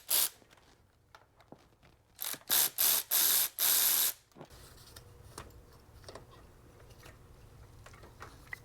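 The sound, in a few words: ratchet loosening T45 Torx fuel pump bolts, Ford 3.5 EcoBoost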